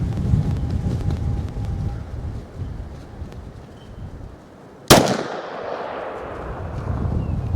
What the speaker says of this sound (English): If I can get this wind to not blow me over